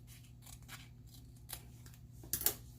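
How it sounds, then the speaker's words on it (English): Scissors snip through a paper label, trimming it down slightly, with a few short crisp cuts near the end amid a quiet room. "So I decided it would be easier to just cut that label down just a hair"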